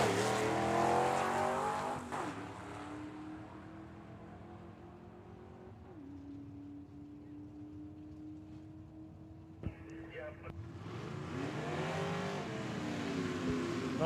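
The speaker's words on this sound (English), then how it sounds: "Shifting gears in the station wagon here on the left-hand side. Right-hand side, we have a Corvette." At a drag strip, a station wagon and a Corvette roar off the line, engines climbing in pitch through gear changes and fading into the distance before another loud engine surge near the end.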